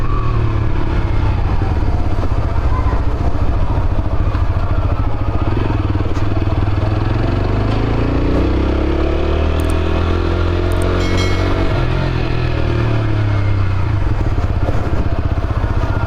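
TVS Apache RTR 4V motorcycle engine while riding, a loud continuous mid-pitched drone with wind rush and a gear change midway as the revs drop and rise again.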